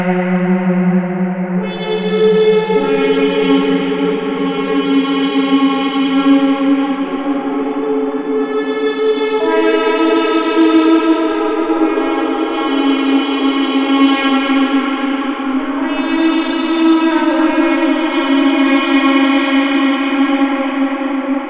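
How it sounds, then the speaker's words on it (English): Sustained Eurorack modular synthesizer chords wash through an external big reverb, their notes smearing into a long, echoing tail with swelling bright tones and no voices. "Let's try a big reverb, and this is just an external device."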